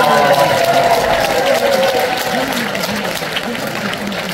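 An audience claps steadily at a New Year concert in a large assembly hall, with a voice carrying over the applause.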